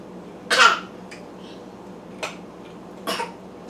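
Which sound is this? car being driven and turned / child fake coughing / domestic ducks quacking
child fake coughing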